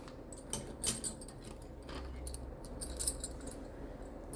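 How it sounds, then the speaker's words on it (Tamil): Glass bangles jangle faintly, giving a few light clinking chimes and small tinkling bursts with quiet pauses between them. "சவுண்டும் நல்லாயிருக்கு. கிளாஸ் பேங்கிள் எல்லாமே."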